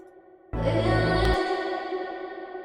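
A sung vocal drenched in heavy reverb, entering abruptly and then ringing out in a long, washy echoing tail.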